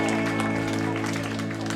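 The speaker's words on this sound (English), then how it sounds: "Big round of applause please for those behind the bar." A crowd applauds at a live mod gig by the band Small Fakers at Chalk in Brighton, with clapping and cheering over sustained organ and band notes that ring on loudly underneath.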